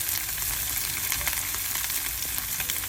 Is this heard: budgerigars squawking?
no